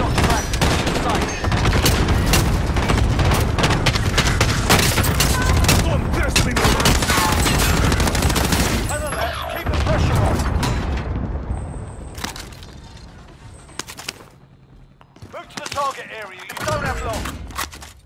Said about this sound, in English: Allied cluster strike inbound. Fire zone is active.